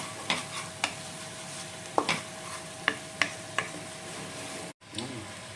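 Spices with coriander powder fry in a pan for bhoger khichuri, a quiet steady sizzle broken by several sharp scraping clicks of a spoon stirring against the pan, with a brief cutout near the end.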